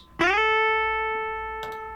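A single sustained lead electric guitar note without double tracking, with a sharp attack, ringing on and slowly fading, followed by a brief pick scrape near the end.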